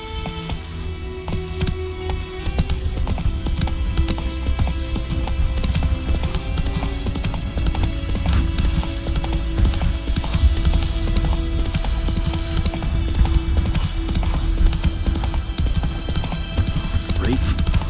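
Roach the horse gallops in The Witcher 3 game, rapid rhythmic hoofbeats clopping steadily over game music and ambience, with voices heard at times.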